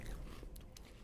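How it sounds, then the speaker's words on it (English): A cookie dipped in milk is bitten right against the microphone, giving a couple of brief, soft crunches over a faint background hiss. "There's a mic crunch."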